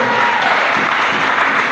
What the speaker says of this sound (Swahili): Tumpigie Yesu makofi